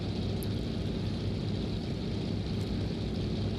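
A fixed-wing aircraft flies in X-Plane 11 near Innsbruck in windy conditions, giving a steady, droning engine hum with a constant low rumble and no changes throughout.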